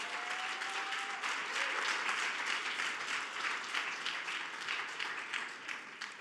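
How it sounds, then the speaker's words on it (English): An audience at a prize semifinalist summit gives a sustained round of applause, a dense, even wash of many hands clapping that lasts throughout at moderate level. "So first, give yourselves a round of applause."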